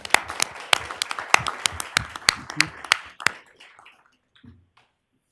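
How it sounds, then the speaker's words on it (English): A small board meeting audience claps in sharp, scattered individual claps for about three seconds. The clapping thins out and fades into a quiet room with a faint murmur. "Good round of applause on that."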